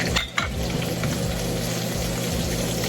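Onions and garlic sautéing in a pan, a dense continuous sizzle close up with a brief clatter near the start, steady and loud throughout with no talking.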